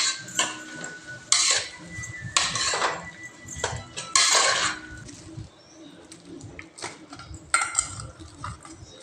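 Chopped tomatoes, about ten, go into a pan for a village-style tomato bath and are stirred: loud metallic clinks and scrapes of a spoon against the pan come in irregular bursts, with only a faint cooking hiss between them.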